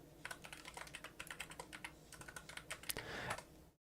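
Rapid keystrokes clatter on a computer keyboard, close and alone, in an irregular run of quick taps that speeds into a denser burst near the end.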